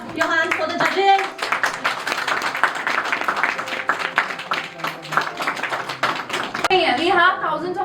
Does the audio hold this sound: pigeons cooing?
no